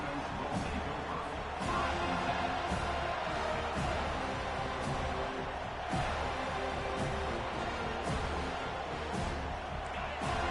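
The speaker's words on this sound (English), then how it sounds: "This crowd bringing an ear-splitting welcome to their visitors." Stadium crowd at a college football game roars continuously, a dense, loud wash of cheering sustained throughout with occasional sharper bursts.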